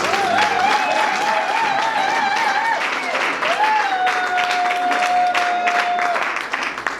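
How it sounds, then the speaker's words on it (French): Applause and cheering rise from a congregation at a Christian wedding ceremony, a steady loud wash of clapping lasting several seconds with a sustained musical tone or voice running over it. "Nous allons acclamer pour cela"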